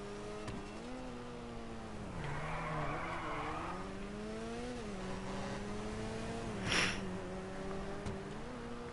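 A car drifts in a PS4 racing video game, its engine droning at a steady pitch with short tire-skid squeals. It plays at a low level, with a brief sharp burst near the end.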